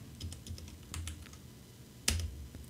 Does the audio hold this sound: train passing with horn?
no